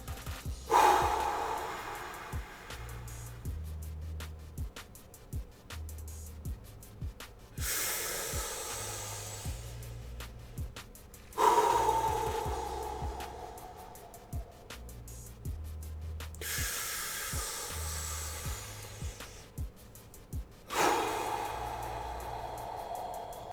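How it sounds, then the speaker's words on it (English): Deep forceful breathing exercise, three cycles of long audible exhales and inhales with sharp noisy bursts of air, close to the microphone, with soft faint music underneath. "it's very important that you try to exhale all of that air on the first breath"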